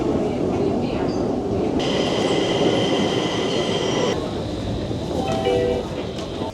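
Subway train in a metro station, a loud, steady rumble of wheels and carriages with a sustained high metallic squeal rising partway through and lasting several seconds.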